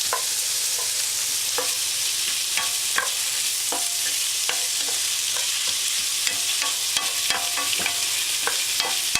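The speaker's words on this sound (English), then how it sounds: "Then we have the ginger. And then we'll stir that a little bit and then add some soy sauce." Ginger and vegetables sizzle in a pan as they are sautéed for an organic Asian veggie dish, with a constant hiss and frequent sharp scraping taps of the stirring utensil.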